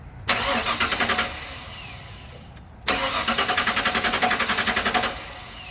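A Ford Bronco that will not start cranks twice, each attempt a rapid rhythmic churning of the starter lasting about two seconds, close and loud, with a pause between and no engine catch.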